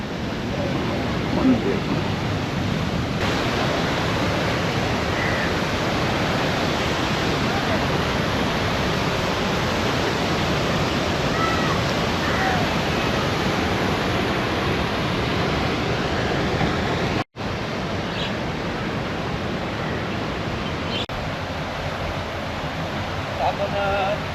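A steady, powerful roar of falling water from the Someshwar waterfall at Gangapur, Nashik, broadband and unbroken, with a brief cut near the end.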